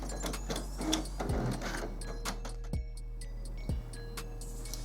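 A Brother DCP-J132W inkjet printer runs a nozzle check print, giving a low steady motor hum with faint whirring and a few distinct mechanical clicks and ticks spaced a second or so apart.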